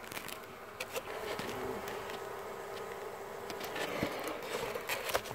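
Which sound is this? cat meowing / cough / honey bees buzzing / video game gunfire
honey bees buzzing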